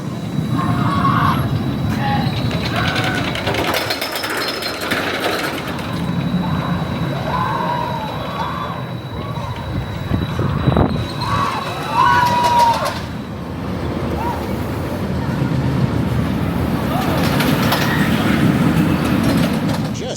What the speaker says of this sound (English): Got a ride on Wind Chaser. That was coaster credit number 110 for me.